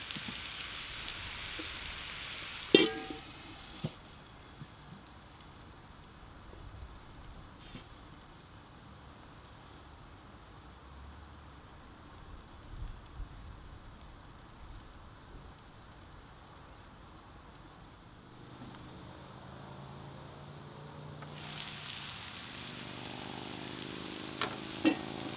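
Sweet potatoes and vegetables with basil sizzle and hiss steadily on a hot plancha after water is added. The frying stays continuous and moderately quiet, with a few sharp clicks, and the texture shifts near the end.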